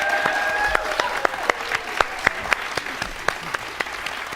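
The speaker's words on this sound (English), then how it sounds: "Let's give a big round of applause for our contestants" Studio audience applauding quiz show contestants at a Texas championship match, brisk clapping with some sharp, evenly spaced claps standing out over a steady bed of hands, moderately loud and sustained.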